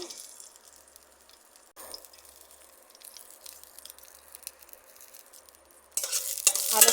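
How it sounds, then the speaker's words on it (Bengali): Green chilies and tomatoes hit hot oil in a pan, a soft sizzle with stirring scrapes that swells into a louder, brighter hiss in the last second, nearby and without speech. "তেলে ফোড়ন দিলাম কাঁচা লঙ্কা টমেটো দিয়ে দিলাম তেলে"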